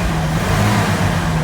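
A GMC V6 engine runs steadily at close range, a loud continuous low rumble with a slight rise in revs, with no other sounds over it.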